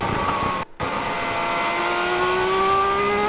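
A 2010 Superleague Formula race car engine roars steadily from on board at Silverstone, its pitch climbing under acceleration into Brooklands, with a brief dropout of sound partway through.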